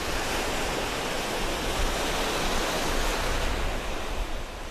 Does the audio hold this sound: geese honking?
no